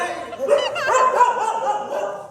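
A dog barks and yips close by in a short, busy burst, with a human voice mixed in.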